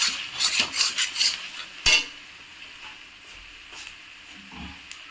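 Meat gravy is sautéed in a pan with a spoon, starting with a quick run of clinks and scrapes and one sharp knock, then settling into a faint sizzle.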